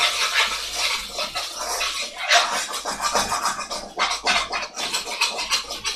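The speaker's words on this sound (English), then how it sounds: "it's starting to stick. Give it a stir." Scraping and stirring sticking chicken chilli in a pan, with a spoon scratching against the metal in an uneven rhythm over a sizzling hiss.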